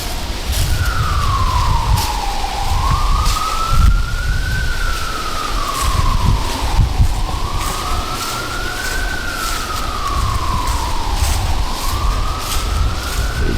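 A wailing emergency siren rises and falls repeatedly in the distance, heard over a rumbling background of Montreal downtown city traffic and wind.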